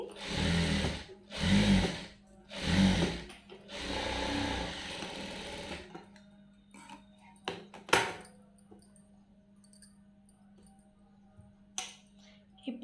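A sewing machine stitches a blouse in three short bursts and then one longer run, loud and close. Quieter handling clicks and taps follow.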